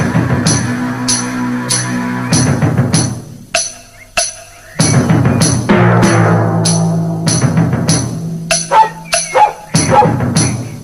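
A man imitates a dog with a series of barks and yips, short voiced bursts separated by pauses, loud and close, with speech between them.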